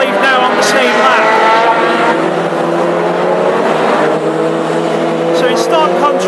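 Classic hot rod race cars at Northampton's track roar continuously, engines loud and steady with layered revving as several cars pass in close succession.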